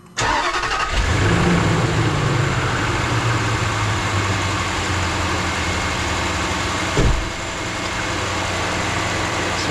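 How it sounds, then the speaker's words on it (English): A 2007 Range Rover L322 engine cranks and fires, briefly revs, then settles into a steady, close idle that continues with one small blip near the end. The engine has just been fitted with a new mass airflow sensor and air filter. "I'm going to crank the key."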